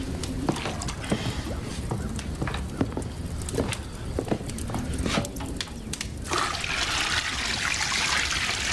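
Bath water poured and splashing into a tub, a steady watery rush with sloshing, running continuously and swelling louder toward the end.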